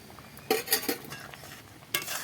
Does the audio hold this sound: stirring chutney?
yes